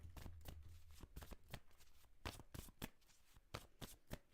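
Tarot-style cards shuffled for a reading, a run of sharp riffling bursts, about a dozen quick flutters and taps in an irregular rhythm, close and fairly quiet with no talking.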